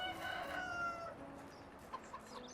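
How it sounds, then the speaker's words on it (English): A rooster crows loudly at the start, then hens give soft, sparse clucks on a farm in the medieval life-simulation game Medieval Dynasty, set against a faint ambient background. "watching the chickens"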